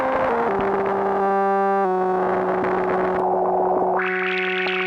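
A restored Micromoog synthesizer plays sustained buzzy, distorted tones with shifting pitch, then its noise source swells through the filter as a bright, hissing band, loud and upfront.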